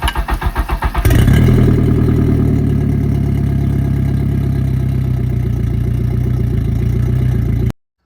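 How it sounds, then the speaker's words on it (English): A Yamaha F150 four-stroke outboard engine cranks for about a second, fires and settles into a loud, steady idle as it warms up, running alone until it cuts off abruptly. "First, let's warm up the engine for a couple of minutes to warm the oil so it comes out faster."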